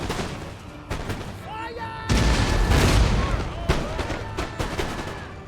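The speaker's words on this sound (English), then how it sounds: "Come on, cannons. Fire away." Booming cannon fire from Hessian line infantry cannons in the strategy game Empire: Total War rolls out in a burst of heavy blasts, with someone talking over the battle.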